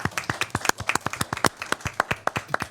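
Applause fills a board meeting room, a steady round of hand clapping with many sharp overlapping claps in a quick irregular rhythm, moderately loud and close, with no talk over it.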